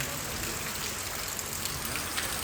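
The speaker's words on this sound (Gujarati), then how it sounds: "વરસાદ આવી ગયો ભાઈ" Steady rain falls in an even, continuous hiss of drops on a surface, with no other sounds.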